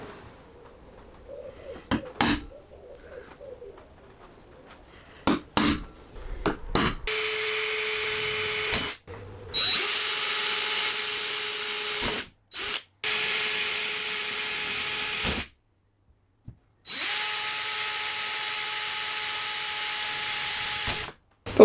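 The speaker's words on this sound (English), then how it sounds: "Those were the pilot holes." A power drill bores pilot holes into the bodywork of a compact BMW 318ti during a spoiler fit, several sustained whining bursts of a few seconds each separated by short pauses, preceded by handling knocks and clatter.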